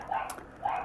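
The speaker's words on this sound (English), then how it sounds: "Dogs are barking." Dogs bark twice in quick succession in the background, two short moderately loud yelps a moment apart.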